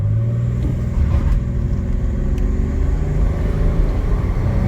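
Pontiac Bonneville SLE accelerating hard from a stop to 40 mph with traction control off, heard from inside as a loud, steady low engine rumble that rises slightly, with road noise and no talking.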